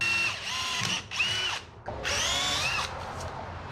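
A power drill bores holes through a metal battery tray, whining in three bursts that rise and bog down as the bit bites, close and loud with no talk.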